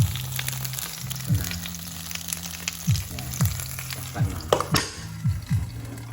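Milkfish (bangus) frying in a pressure cooker over low, moderate heat, giving a steady close sizzle with repeated clinks and scrapes of a utensil against the pan.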